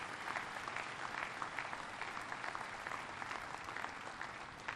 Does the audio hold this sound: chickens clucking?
no